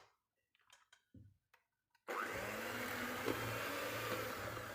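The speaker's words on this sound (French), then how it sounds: "Et on va commencer à mélanger avec le robot." Food processor mixing icing sugar for sablé biscuit dough: a few quiet clicks and knocks, then the motor starts abruptly and runs as a loud, steady whirring drone close by.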